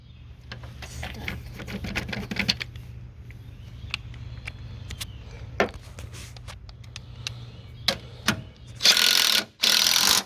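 Tightening front strut bolts on a 2000–2004 Pontiac Grand Am, heard as sparse metallic clicks and ratchet-like ticks over a steady low hum, ending in a burst of louder rasping noise.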